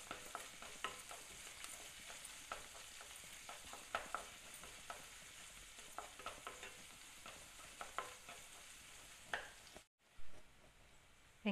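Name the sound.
onions with ginger garlic paste and curry leaves frying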